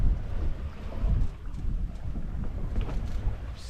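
Sailboat heading east at sea in wind over calm water with a slight swell, a steady rush of wind and water noise with low rumbling buffeting, continuous and close, with no voices.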